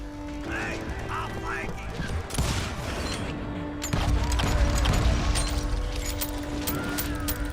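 Pistol shots ring out in the Western shooter Call of Juarez Gunslinger, a few sharp reports over continuous game music and ambience, fairly loud and close.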